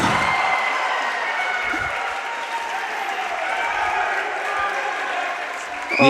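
An Indian crowd applauds steadily at a Commonwealth Fencing Championships final, a dense wash of clapping from a large arena audience, fairly distant and even, swelling slightly near the end.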